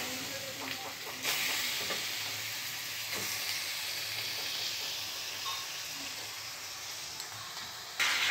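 Chicken pieces for chicken chaap drop into a hot pan and sizzle loudly, a bright steady hiss that jumps at the start and again near the end.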